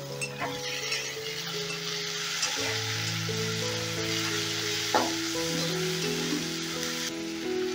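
Tomatoes with a little salt sizzle and fry steadily in a pan for a Bengali mustard fish curry, with occasional stirring clinks of a spatula over a constant hiss.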